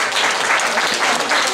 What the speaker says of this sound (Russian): Встречайте вашими аплодисментами.